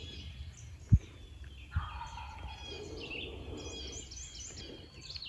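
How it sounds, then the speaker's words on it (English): A wild turkey gobbles during a hunt, its rattling call rising in a couple of bursts from some distance, with faint thumps nearby. "I've heard what sounds like maybe two gobbles over there."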